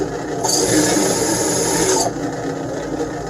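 A drill bit is dry-cut against a sharpening tool without oil, making a steady, close grinding rasp with a bright high whine that starts and stops partway through, alone and loud.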